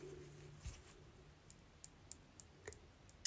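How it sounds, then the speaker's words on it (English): A light switch clicks sharply several times in a quiet room, brief crisp ticks spaced irregularly and close to the microphone, with no voices. "clicking the light"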